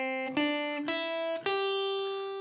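Guitar notes of the C pentatonic scale step through a few pitches above and below in the C position, four clear plucked tones ringing close and fading out at the end.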